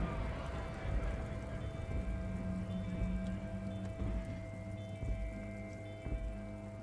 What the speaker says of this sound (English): Y'all out here in the rain?